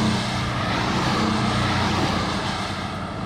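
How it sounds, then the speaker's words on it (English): Porsche 718 Boxster with a four-cylinder boxer (B4) engine running steadily, a loud continuous engine drone with low harmonic rumble held at a constant level throughout, no voices. "Its B4 engine gives the 718 Boxster a typically full Porsche sports car sound."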